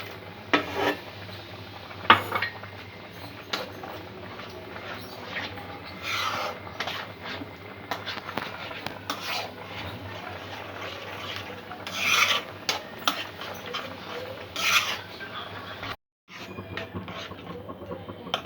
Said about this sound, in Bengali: এটা কিছুক্ষণ ধরে এইভাবে নেড়ে নেড়ে ঘন করতে হবে।